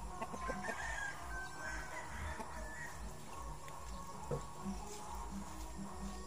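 Chickens clucking steadily with a rooster crowing, faint and somewhat distant in a rural yard, mixed into a continuous outdoor background hum.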